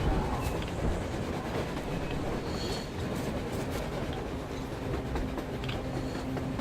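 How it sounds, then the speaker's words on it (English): A train rolls along on the surface in the video game Metro Exodus, a continuous rumbling clatter of wheels and carriages with rhythmic clicks and metallic squeals, steady and fairly close, with no talking. "A train! A damn train on the surface!"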